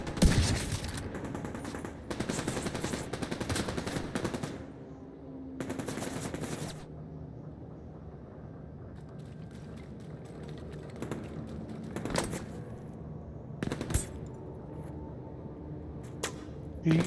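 Gunfire in The Division 2 video game, bursts of rapid automatic shots broken by quieter gaps, with faint speech underneath.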